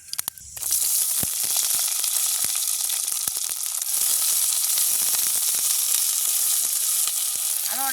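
Onion, chili and curry leaves hit hot oil and break into a loud, continuous sizzle with hissing spatter that holds steady throughout, a few sharp crackles and stirring knocks near the start, for a crab curry cooked outdoors in a village.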